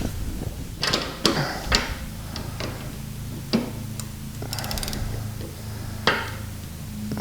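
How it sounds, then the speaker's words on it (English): Bolts being tightened back down on a lawn mower during its yearly service, heard as close metallic ratchet clicks and sharp ticks in short bursts, with a low steady hum underneath. "So now all I need to do is tighten everything back down."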